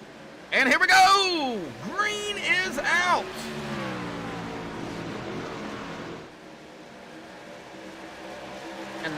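Race trucks roar up through their gears at a restart, engines rising and falling in pitch as they sweep past close by, then fading into a lower drone under an announcer's commentary.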